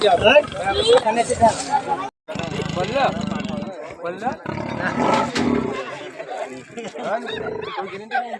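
Deep, rough growls and roars from a caged leopard, close and loud, coming in bursts, with people talking over them.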